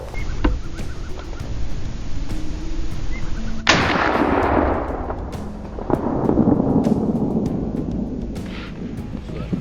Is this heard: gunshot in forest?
yes